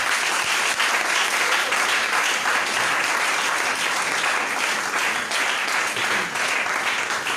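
A church congregation at a divine healing seminar applauds and cheers, a dense continuous wash of clapping and acclamation that stays loud and steady throughout.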